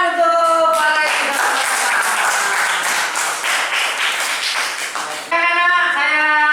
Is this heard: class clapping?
yes